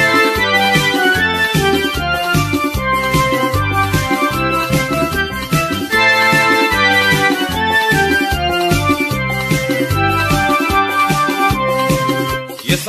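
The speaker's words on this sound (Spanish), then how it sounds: "le interpretamos una marcha nupcial," A band plays a pompous wedding march at a lively Honduran-style wedding, the full ensemble sounding with steady rhythmic bass and busy melody throughout, loud and continuous with no talking.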